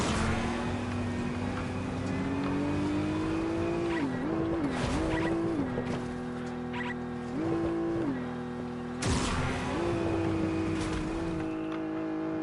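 A BMW M2 racing car in a video game drones with a steady engine note that wavers and shifts pitch as it revs and eases off, with tires squealing and brief crashing bursts, loud and continuous, no talking.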